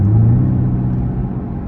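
An LT1-powered car rumbles through a test drive, a steady low engine drone with road noise filling the short stretch without any talk.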